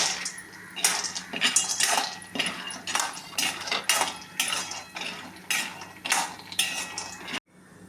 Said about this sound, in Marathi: त्यावरती बदाम आपण चांगले तळून घेऊया।